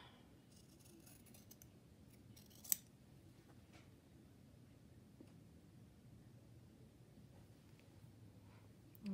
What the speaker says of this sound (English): I'm not doing very good at getting this cut straight.